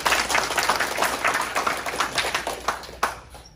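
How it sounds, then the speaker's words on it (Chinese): Audience applause at a club singles team table-tennis event in 2023, a steady patter of many hands clapping throughout, with one sharper clap near the end and no talk. "谢谢，给他们鼓掌。"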